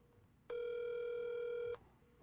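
A steady telephone tone sounds for just over a second as a call is placed to a radio show caller, loud and clean against a quiet background, starting and stopping abruptly.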